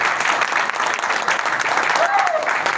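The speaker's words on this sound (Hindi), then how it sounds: "एक बार जबरदस्त ताली आप सभी के लिए" Vigorous applause from an audience standing at a company meeting, a continuous dense wash of clapping throughout.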